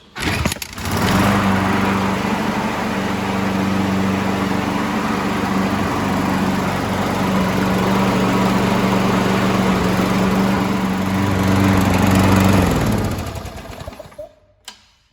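A Craftsman lawn mower engine, carburetor just cleaned of sludge, fires and runs with a loud, steady buzzing drone for about twelve seconds, then is cut off and winds down to silence.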